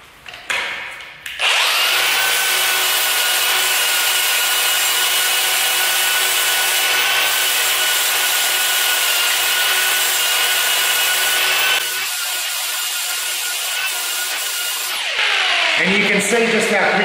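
Power sander grinding over patched spots on a concrete garage floor, a loud, steady abrasive whine running for about ten seconds, then shifting to a lower, rougher tone before picking up again.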